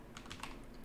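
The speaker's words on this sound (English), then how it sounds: "type these out." Brief, quiet burst of typing on a computer keyboard, a handful of soft key clicks heard alone.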